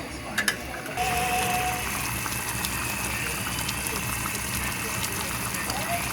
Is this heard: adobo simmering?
yes